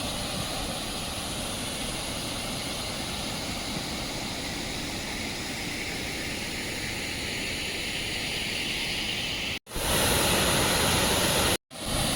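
Roaring waterfall beside a large riverside well, a loud, steady broadband rush filling the whole clip, with two brief dropouts near the end.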